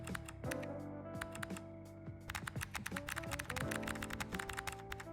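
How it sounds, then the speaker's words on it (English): Rapid, uneven keystrokes on a computer keyboard, close and crisp, with a brief pause before typing resumes over soft background music. "It's about the typing sounds."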